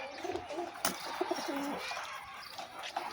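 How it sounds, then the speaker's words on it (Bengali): A female pigeon at a Bangladeshi racing-pigeon club loft coos in soft, low repeated calls, with faint chirps and a busy background hum around it. "এই যে মাদি কবুতর একটা।"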